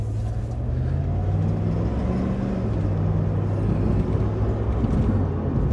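The world's fastest SUV drives along with its engine holding a steady, loud rumble from inside the cabin, with a slight pitch change as the transmission shifts gears partway through; no one speaks.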